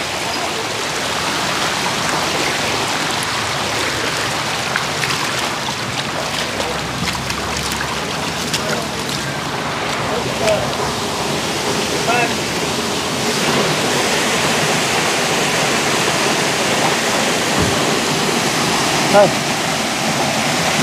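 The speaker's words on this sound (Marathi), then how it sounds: "पळय घसघसो वता धबधबो जाला धबधबो हांगासर म्हापशाचो धबधबो जाला" Water gushing out of a main pipe broken by a JCB excavator at Duler, Mapusa, flooding nearby shops and homes; a loud, steady roaring rush like a waterfall continues throughout, with voices faintly beneath it.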